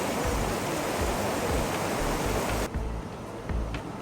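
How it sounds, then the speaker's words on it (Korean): Changbai Waterfall on Mount Baekdu roars loudly as a dense, steady rush of falling water, easing slightly partway through, with no voices. "우람한 폭포 소리도 그렇고요"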